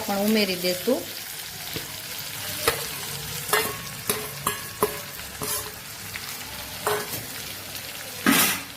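Potatoes fry in a pan as chopped okra is stirred in for a Kathiyawadi-style bhinda shaak, with steady sizzling broken by repeated sharp clanks and scrapes of the spoon; someone speaks briefly.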